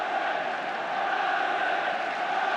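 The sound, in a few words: football stadium crowd noise rising during FA Cup Final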